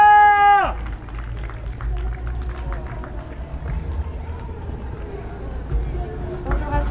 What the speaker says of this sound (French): On peut l'accueillir et l'applaudir bien fort s'il vous plaît.